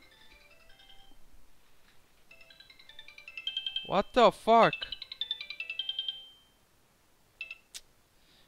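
A phone ringtone plays as a repeating electronic melody, fairly loud and close, while a man exclaims in surprise partway through and a short beep sounds near the end.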